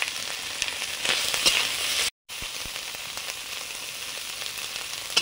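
Turmeric and spice water poured into a hot pan with ginger paste, garlic paste and green chili sets off a loud, continuous close sizzle with crackling, cut by one brief gap.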